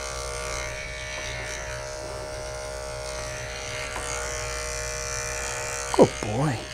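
Electric clippers with a snap-on comb buzz steadily at close range while trimming a Maltese dog, a continuous even hum with a brief clatter near the end, and a groomer talks over it.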